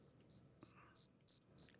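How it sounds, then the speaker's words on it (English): A cricket chirps as a sound effect in six evenly spaced, high, trilling bursts, regular and clear against a quiet background. "I heard crickets."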